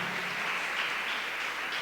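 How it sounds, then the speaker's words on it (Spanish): A church congregation applauds during a service, with a brief, steady wash of clapping from many hands filling the hall and no voices over it. "Te animo a darle un aplauso al Señor"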